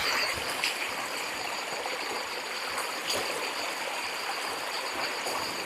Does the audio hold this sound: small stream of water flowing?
yes